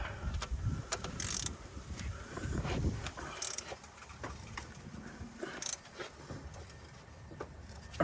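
Hand tools work on a 9th generation Honda Civic Si during a transmission fluid change, giving faint metallic clicks, ratcheting and scraping in irregular bursts, close and quiet.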